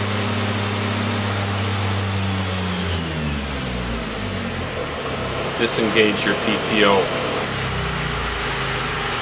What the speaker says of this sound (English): Throttle the engine down.